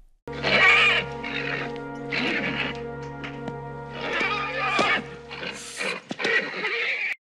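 A horse neighs several times, loud whinnies rising and falling close by, with some snorting and a brief clatter near the end.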